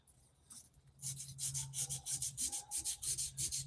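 Rhythmic back-and-forth strokes of high-grit sandpaper rub burnt epoxy off a knife, close and distinct, about a dozen even passes after a brief quiet start.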